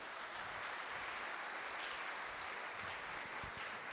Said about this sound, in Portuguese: dá uma bonita salva de palmas no alto